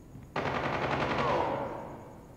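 DRH rifle fire in the shooter game Call of Duty Mobile, one loud burst of rapid automatic shots that breaks in sharply and then tails off, with no voice over it.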